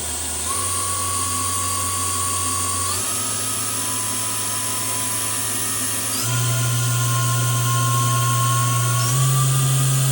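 Spindle of an Okuma GENOS M460-VE vertical machining center running up in steps, a loud steady mechanical whine that jumps higher in pitch several times, continuous with no talk.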